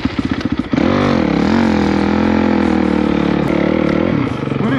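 An enduro motorcycle rides through snowy ruts in winter, its engine loud and close with a steady droning rev after a few choppy bursts at the start, faint rider voices briefly mixed in.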